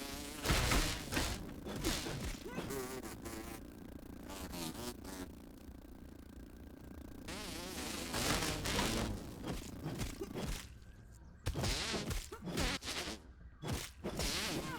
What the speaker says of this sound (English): You may be a tiger mosquito, but you all die the same.